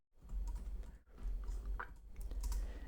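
Keys clatter on a computer keyboard as CSS flexbox code is typed, a close, quick run of soft clicks with one brief pause, no voices.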